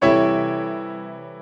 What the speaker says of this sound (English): let me show you what a dissonant chord will sound like